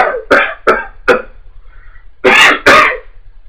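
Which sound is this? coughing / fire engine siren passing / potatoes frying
coughing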